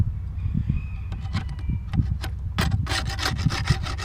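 A hand tool scrapes propolis and wax off wooden beehive frames in quick, close, rough strokes. The rasping grows denser and louder toward the end, and no one speaks.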